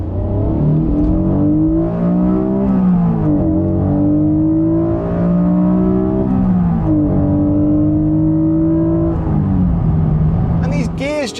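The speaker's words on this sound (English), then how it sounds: "This engine sounds like nothing else once it comes alive. This 3-litre VTEC V6." Honda NSX supercar's 3-litre VTEC V6 revving hard and loud up close, pitch climbing through repeated rising sweeps with brief drops between gears, a rasping howl that fills the whole stretch.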